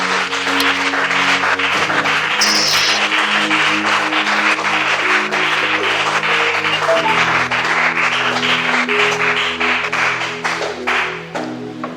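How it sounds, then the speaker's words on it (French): Church congregation at a French-language worship service applauding steadily and loudly, with dense continuous clapping under music and chord tones throughout. "On acclame pour la parole de Dieu."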